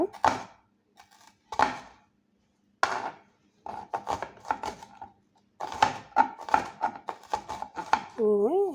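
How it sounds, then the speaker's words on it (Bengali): Onions being chopped on a board with a knife, sharp distinct cuts first spaced apart then coming in quicker repeated runs, close and crisp, with a brief voice-like tone at the end. "এমন করে আমি সবগুলো পেঁয়াজ কেটে নেব"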